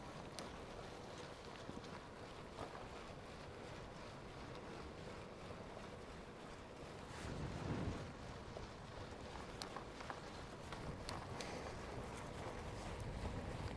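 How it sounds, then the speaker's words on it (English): Steady outdoor wind rushing during a bike tour in South Korea, a light breeze buffeting continuously with a brief stronger gust midway, no talk. "A little bit breezy."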